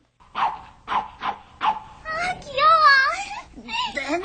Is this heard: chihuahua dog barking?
yes